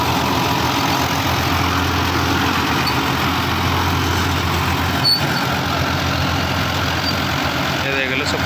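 A 55 hp tractor engine runs continuously while pulling a 9-foot super seeder through a field, a steady loud low drone without pauses.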